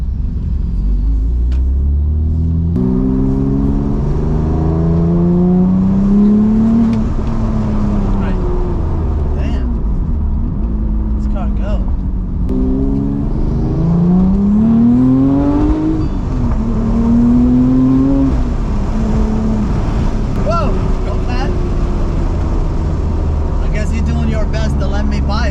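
Porsche 911 Turbo engine droning and rising in pitch as it accelerates through gears, a loud steady cabin rumble heard from inside the car while people talk over it.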